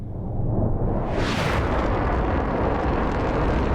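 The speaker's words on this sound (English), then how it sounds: "the first F-15 is now firing" Video game F-15 fighter jets firing on a Russian base: a loud, continuous roar of explosions and artillery-like blasts, with a bright whooshing surge near the middle as a missile launches, then sustained rumbling.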